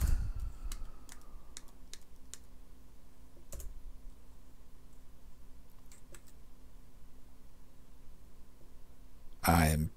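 Computer keyboard keys clicked during a Toby the Trapper game, with sparse, sharp taps in an irregular rhythm and a denser burst near the end, over a low steady hum.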